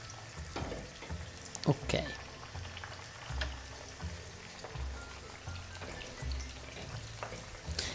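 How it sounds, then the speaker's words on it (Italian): Onion frying in a pan on a stovetop, a soft steady sizzle with faint crackles and a few clinks of utensils, quiet and close, with a brief spoken word. "E lasciamo friggere"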